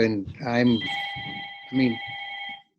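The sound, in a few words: telephone ringing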